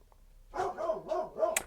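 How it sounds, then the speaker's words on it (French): A small dog barks in a quick run of three or four sharp, close barks, loud and insistent, with no talk over them. "il est insupportable quand il aboie comme ça"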